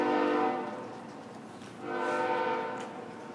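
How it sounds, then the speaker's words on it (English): A passing train sounds two long, loud blasts of its horn, separated by a short dip, with the rumble of the train continuing underneath and no talking. "It's harder and harder to talk over the train."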